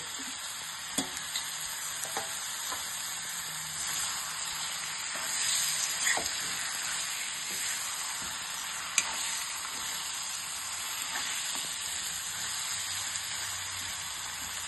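Potatoes sizzling in hot oil in a pan for chicken curry, a steady close frying hiss with occasional stirring clicks and scrapes, no talk.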